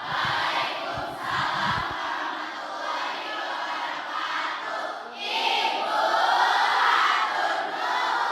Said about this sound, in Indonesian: Terima kasih, tepuk tangan untuk semuanya.